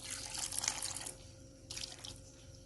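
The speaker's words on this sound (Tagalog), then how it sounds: "Tapos dagdagan natin ng kaunting tubig." Water is poured into a cooking pot of snails simmering in coconut milk, a close splashing trickle that eases off, then a second short pour, with no talking.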